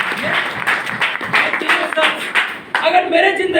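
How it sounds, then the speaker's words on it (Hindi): An audience at a motivational seminar claps loudly in uneven bursts, sharp nearby hand claps mixed with broader applause, briefly dipping before swelling again, while voices are heard over it. "मैं जोरदार ताली चाहूंगा।"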